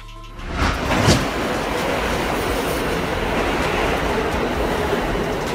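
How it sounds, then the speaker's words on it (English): A subway train rolls past close by, a loud sustained rumble with a sharp rise at the start, then steady roaring wheel noise on the rails with no voices. "Subway train."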